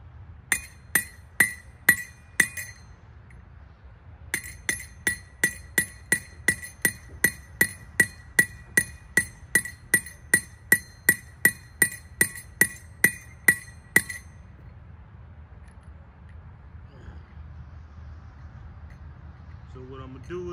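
Sharp metallic hammer blows driving a heavy-duty metal stake ring out in a steady rhythm, a few strikes, a short pause, then a long run of evenly spaced clangs before quieting.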